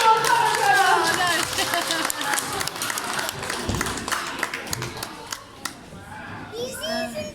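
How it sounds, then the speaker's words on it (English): Audience of families and children clapping at an outdoor parrot show at Pleasurewood Hills, scattered claps and a few cheers mixed with kids chattering and a presenter's voice, fading out near the end. "Give me a big round of applause"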